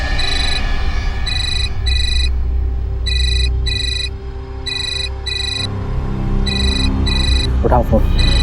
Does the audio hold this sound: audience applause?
no